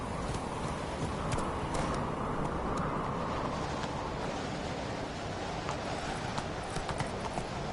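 Roach the horse galloping in The Witcher 3: Blood and Wine, rapid steady hoofbeats pounding continuously over a dense ambient wash, close and sustained.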